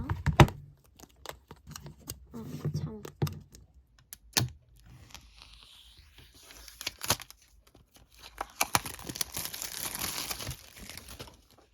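Plastic and paper packaging of an iPad case is torn and crinkled open by hand in a quiet room, with sharp, irregular rips and crackles separated by short pauses, close to the microphone.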